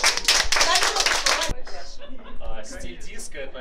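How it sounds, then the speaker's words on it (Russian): A short burst of hand clapping from a small audience at a makeup presentation, dense and close, stopping partway before laughter and voices carry on. "Ну что ж, аплодисменты."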